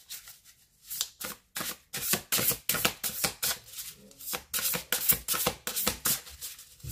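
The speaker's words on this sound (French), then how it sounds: "je vais vous faire le tirage d'une carte du tarot" Tarot cards shuffled by hand in a rapid run of crisp riffling slaps and flutters, close and fairly loud, with brief pauses between bursts and no talking.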